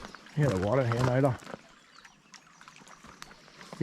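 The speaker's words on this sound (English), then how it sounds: "Hear the water here now, though." Water laps softly at the shore of a lough on a sunny day, faint irregular trickles and splashes heard close by after a burst of speech.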